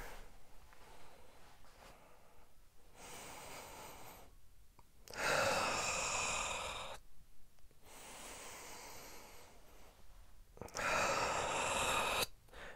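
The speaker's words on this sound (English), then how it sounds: "Make sure you finish breathing at this last turn." Controlled breathing during a karate kata: long, forceful breaths alternate with quiet pauses, some loud hissing exhalations and rushing inhalations, close and steady with no talking.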